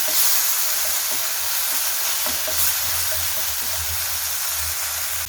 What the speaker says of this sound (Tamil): இதை நல்லா கலந்து விட்டுடலாம்.